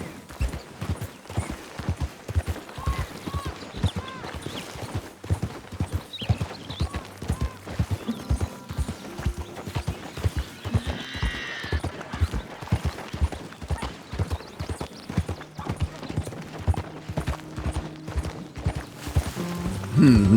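Horse hooves clip-clopping steadily in Red Dead Redemption 2, a regular walking rhythm of hoofbeats continuing throughout, with faint background game sounds and occasional creaks.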